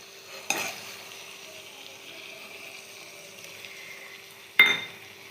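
Brinjal curry stirred with ground spice paste in a pan, two short scraping stirs standing out over a faint steady simmer, with quiet gaps between them.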